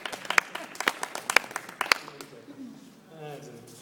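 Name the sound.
applause for hairdresser at hair show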